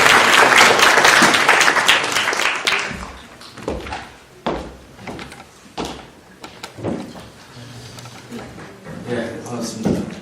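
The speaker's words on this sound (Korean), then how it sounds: "큰 박수 부탁드리겠습니다." Lecture-hall applause for a law professor being introduced at a legislative training course, dense clapping at first that quickly thins into scattered claps and knocks before fading.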